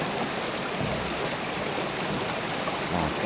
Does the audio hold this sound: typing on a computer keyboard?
no